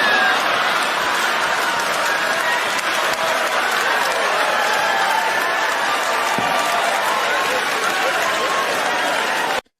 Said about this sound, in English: Notice how the entire crowd is cheering and clapping.